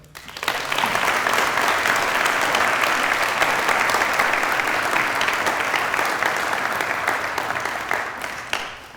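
Warm, steady applause from a lecture audience welcoming a returning guest at Baylor, loud and sustained for several seconds before tapering off near the end.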